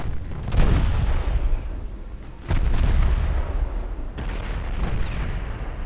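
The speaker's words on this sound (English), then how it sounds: "Main guns are going through the main belt now" Warship main guns fire in a naval battle game, three heavy booming salvos with deep rumbling tails, each starting sharply and fading into a roaring wash before the next.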